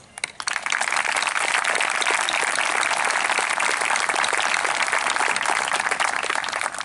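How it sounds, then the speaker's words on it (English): Graduation audience applause at a Peekskill High School ceremony, a large crowd breaking into loud, steady, dense clapping that holds evenly throughout. "today we applaud you"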